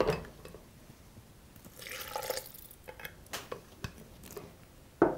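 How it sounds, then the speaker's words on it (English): A quarter cup of water is poured into a powdery homemade baby food mix, giving soft, faint liquid splashes and drips with light clinks against the container, close and quiet. "I'm going to add 1/4 cup of water to make a smooth consistency"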